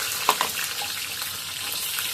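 Akri dumplings frying in hot oil in a home kitchen give a steady dense sizzle with a couple of sharp spatter pops near the start, close and continuous with no talking.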